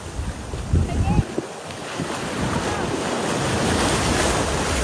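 Surf rolling onto a beach under gusty wind that buffets the microphone, the wash swelling and building steadily toward the end after a few rumbling thumps early on.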